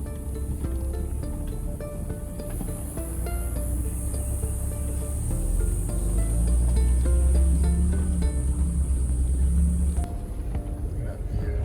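A vehicle driving slowly along a narrow ridge, its engine and tyres making a steady rumbling drone that swells midway, with a voice talking over it.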